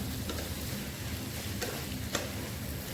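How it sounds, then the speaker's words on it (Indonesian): Boiled beef stir-fried in a pan without water, a dense continuous sizzle with scattered ticks and scrapes as the pieces are turned, close and steady. "ini tinggal dioseng-oseng dulu sebentar, jangan dulu dikasih air"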